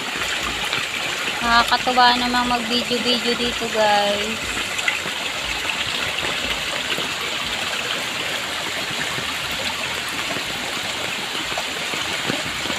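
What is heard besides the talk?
strong flowing stream water after rain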